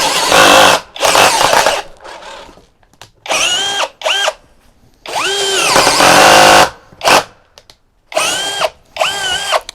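A Mensela ED-LX2 brushless impact drill at speed 2 whirs loudly in repeated short bursts, its whining pitch rising and sagging as the clutch slips and stalls, with silent gaps between runs.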